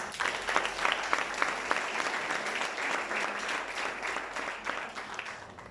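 A church congregation applauds during a service, giving sustained, dense clapping from many hands in a reverberant hall, steady throughout and slowly fading at the end.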